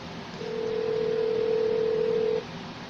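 A telephone call goes out: a single steady ringback-style tone sounds for about two seconds over low background hiss, then cuts off.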